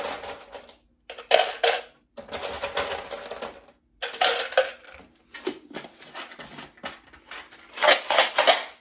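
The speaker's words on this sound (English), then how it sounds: "Legos are loud, right? Put some Legos in this" A homemade shaker made from Lego bricks inside an empty container rattles in loud, busy bursts of clattering plastic, with a handful of shakes separated by brief pauses.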